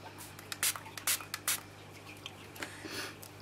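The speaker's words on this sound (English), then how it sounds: "I'm going to spray some water on my face paint cake" Several short, sharp spritzes from a spray bottle misting water onto a face paint cake, a quick cluster of hisses followed by a couple more, close and fairly quiet.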